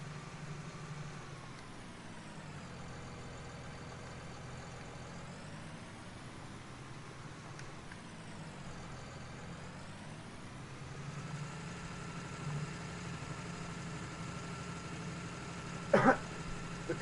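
A low-powered tractor engine drones steadily while pulling a blue roller across a field, a quiet, constant rumble with faint clicks and knocks near the end.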